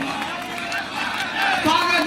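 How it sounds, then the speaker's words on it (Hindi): A large crowd at an outdoor public rally in Betma, Depalpur, Indore, claps and cheers to welcome the chief minister, a dense continuous roar of applause and voices that swells slightly toward the end. "जोरदार ताली बजाकर अपन माननीय मुख्यमंत्री मोहन यादव जी को स्वागत करेंगे"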